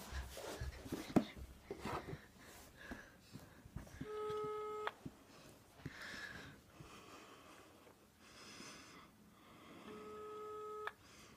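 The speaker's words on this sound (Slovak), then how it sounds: "A zavoláme Davidovi, zavolám cez otcov mobil a poviem, že mi niekto akože ukradol." A phone call placed on a father's mobile, with two repeated ringback tones in a quiet room, each a steady beeping pulse, amid light handling noise and breathing.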